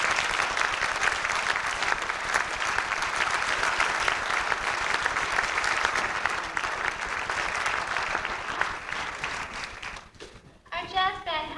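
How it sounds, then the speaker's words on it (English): Sustained audience applause at a high school honors society awards night, dense steady clapping from a crowd that thins and fades near the end, followed by a brief spoken voice. "These students all deserve a round of applause."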